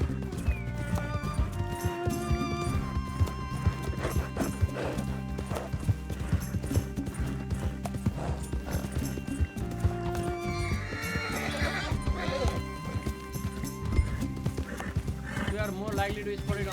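A horse in Red Dead Redemption 2 gallops with steady clip-clop hoofbeats and snorts under game music, while a player talks and shouts over it.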